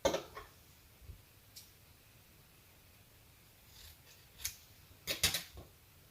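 Scissors snip through fabric for embellishment work in a quiet room, a few short crisp cuts scattered sparsely with long gaps, the strongest cluster near the end.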